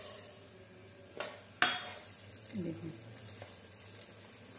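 Cloves and broken wheat stirred and frying in a pot for Rajasthani wheat khichda, a soft low sizzle under a spoon clink or two and a brief scrape against the pot, with a voice speaking briefly.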